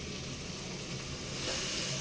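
Food frying in a pan gives a continuous soft sizzle and hiss. It swells slightly louder toward the end, and there is no talking.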